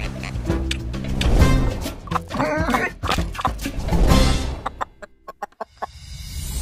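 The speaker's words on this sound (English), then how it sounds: "About that chicken eating the rock." A chicken clucks in Disney's animated film Moana, busy squawks and clucks over a loud film soundtrack, followed by a run of sharp, sparse knocks near the end.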